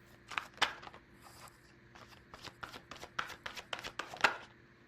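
Large tarot cards shuffled by hand at close range, a few quiet papery riffles and soft slaps in irregular bursts against a faint background hum.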